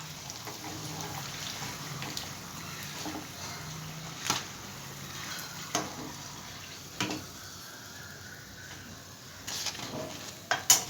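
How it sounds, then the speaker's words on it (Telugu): Brinjal fritters (bajji) frying in hot oil, a steady soft sizzle with occasional pops and light clinks of a utensil against the pan, moderately close and without talk. "ఇదిగోండి ఇలా కలర్ మారేంత వరకు వేయించుకోవాలండి వీటిని"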